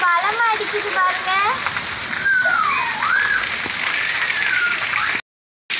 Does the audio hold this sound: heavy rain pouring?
yes